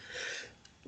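A single short sneeze, quick and fairly faint, with a breathy burst at the start and a brief tail, heard alone in an indoor work session.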